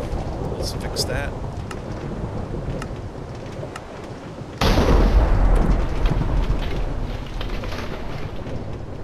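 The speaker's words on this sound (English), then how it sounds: "we're going to get struck by lightning" Lightning thunder in Minecraft Bedrock, a loud sudden crack midway that swells into a broad rumble over steady rain hiss.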